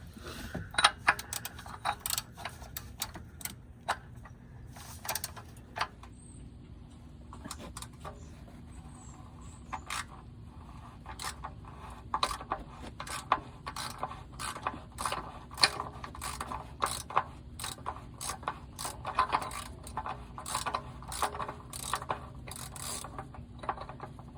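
A hand ratchet works the oil drain plug loose on a Lexus ES350 during an oil change, with rapid runs of clicking pawl strokes in bursts and short pauses, close and fairly quiet, with no talking.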